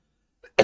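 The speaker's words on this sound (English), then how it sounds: "I have some issues with cough." A single sharp cough from a man teaching a law current-affairs lesson, preceded by a faint catch of breath, close and brief in otherwise silent surroundings.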